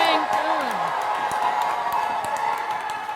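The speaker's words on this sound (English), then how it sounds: "You can hear the crowd is really pumped." A packed aquatics-venue crowd at the 2012 Summer Games roars for a swimming race, a loud, dense, steady wall of cheering and whoops that holds throughout without letup.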